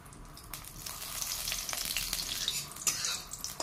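Mustard oil in a hot kadai crackles and sizzles at close range, with scattered light clinks and pops over a steady frying hiss.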